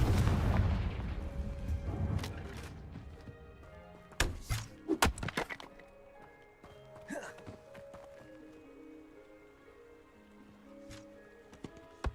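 Confringo fire spell in the Hogwarts Legacy video game, a rumbling blast at the start followed by sharp impact thuds and scattered clatter fading into quiet ambient game sounds.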